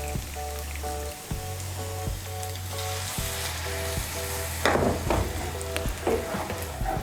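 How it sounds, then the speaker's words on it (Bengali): Hot water hits a pan of frying egg bhurji masala, a dense crackling sizzle that flares and bubbles loudly, with scraping stir strokes over a steady background hum. "এর মধ্যে আমি দিয়ে দিচ্ছি হাফ কাপ গরম জল।"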